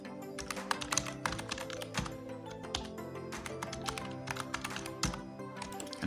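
Rapid, uneven typing on a computer keyboard while entering a password, a dense run of sharp key clicks with no speech.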